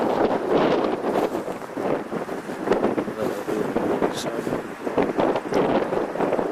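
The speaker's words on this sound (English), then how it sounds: "Except so windy, I'm just going to forward." Strong wind buffets the microphone in rough, rumbling gusts while a person talks underneath, the blustering noise nearly constant throughout.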